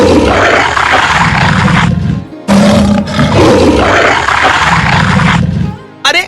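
A voice imitates a lion's roar in long, loud, rasping bursts, with a brief pause midway and a short grunt at the end.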